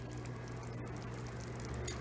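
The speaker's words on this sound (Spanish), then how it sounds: "Y como veo que le va a faltar agua, le voy a poner agua caliente." Hot water poured into a pot of rice cooking with pigeon peas, a steady low watery rush running for about two seconds, moderately quiet with no talking.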